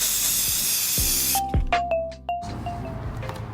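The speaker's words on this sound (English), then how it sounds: "Using a can of black spray paint," A can of black spray paint hisses loudly and continuously as primer goes onto small plastic RC kart parts, then cuts off, followed by a few light clicks and taps.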